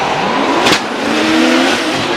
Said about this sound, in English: look at the gap. Yamashita's car just pulling on Masayama's vehicle.